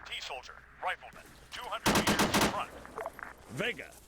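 A grenade machine gun fires in the military video game Arma 3, a quick loud burst of rapid gunshots at mid-distance. Birdsong-like chirps and distant noises come before and after it.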